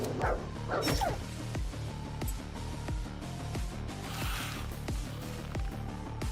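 A dog in the video game Dysmantle barks and yips a few times early on, sharp and fairly close, over a steady backdrop of game music and rhythmic thuds.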